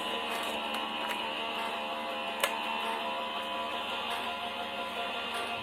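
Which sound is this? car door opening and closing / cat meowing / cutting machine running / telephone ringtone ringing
cutting machine running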